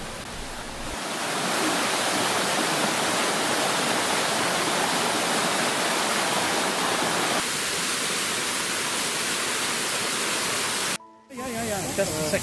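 A waterfall on a levada hike in Madeira roars as a steady, dense rush of falling water, close and loud, filling the whole stretch before cutting off abruptly near the end.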